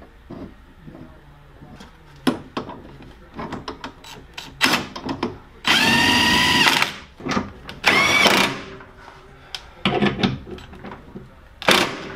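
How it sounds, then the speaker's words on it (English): Bolts being cleaned on a bench wire wheel during a drum-to-disc brake conversion on a turbo 1999 Honda Civic hatchback, with loud sustained grinding bursts between sharp clicks and clanks of metal handling. "just a couple of minutes can make bolts look really good on a wire wheel"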